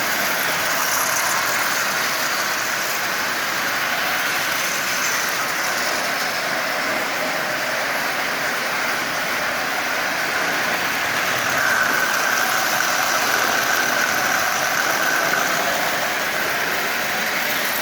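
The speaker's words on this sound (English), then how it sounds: "And this engine is up and running, and it's running really well" A Marx 666 toy steam locomotive with its original eight-wheel tender runs on the track while smoking, giving a steady, close motor whir and rolling rumble that hold an even level throughout.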